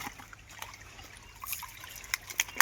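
Water trickles and splashes faintly while freshly caught white crabs are washed at a village stream in Surgana, with soft irregular drips and a few sharper splashes toward the end.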